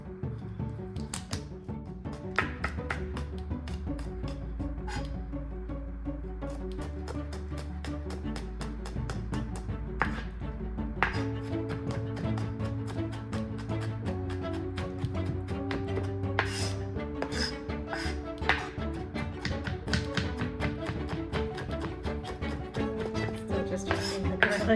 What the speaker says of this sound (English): Still just chopping the garlic.